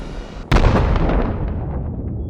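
One loud blast bursts in suddenly and rolls into a long crackling, rumbling decay, like a rocket explosion tearing through a micro LEGO city.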